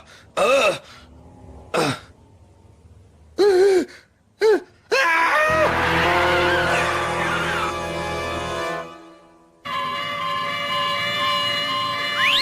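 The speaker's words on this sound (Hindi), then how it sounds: "अरे ये क्या? ये सब एम्बुलेंस कहाँ जा रही हैं?" Wailing ambulance sirens rise and fall, first in short bursts, then overlapping continuously as the ambulances pass nearby.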